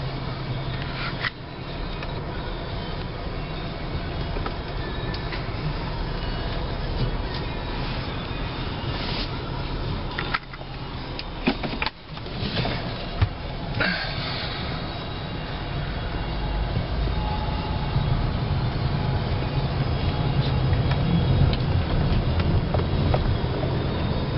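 A Chevrolet Impala backs out and drives away, heard from inside the cabin as a steady low rumble of engine and road noise that builds gradually, with a few brief knocks and no talking.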